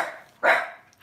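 A house dog lets out a single sharp, close bark after a faint whine, then falls quiet.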